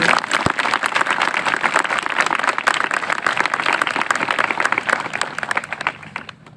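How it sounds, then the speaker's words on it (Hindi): A congregation at a Christian revival gathering applauds together in sustained, steady clapping that fills the room, then tapers off at the end. "क्या हम प्रभु के लिए एक अच्छी ताली बजा सकते हैं मिलकर?"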